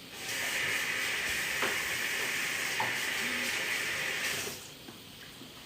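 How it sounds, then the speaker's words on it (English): Running tap water spilling over hands at a kitchen sink while preparing a steak melt, a steady close hiss of flowing water that continues for several seconds and then eases off near the end. "Give my hands a quick wash."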